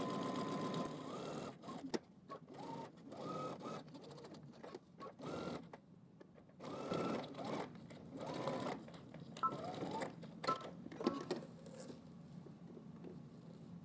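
A sewing machine stitches fabric in short, stop-start bursts of rapid mechanical whirring, close and moderately loud, with brief pauses between runs while sewing a Simplicity S9758 garment.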